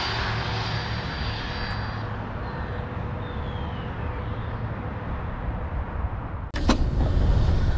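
Arrma Limitless RC car running at high speed, around 84 mph, a steady high-pitched electric motor whine with broadband rushing noise that holds level throughout, then a sudden clatter and louder rumble near the end.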